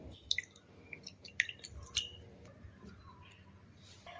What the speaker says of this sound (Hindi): अब थोड़ा पानी डाल के इसको गून लेंगे अच्छे से